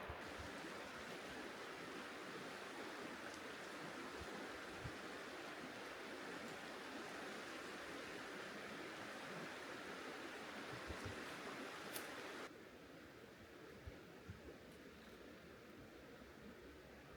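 River water flows steadily as a broad, constant rushing wash close by, with the noise dropping somewhat in level partway through but continuing without a break and with no talking.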